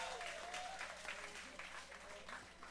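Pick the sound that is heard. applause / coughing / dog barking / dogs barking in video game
applause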